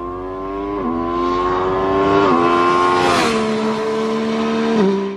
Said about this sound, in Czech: tu motorku jsme projeli pořádně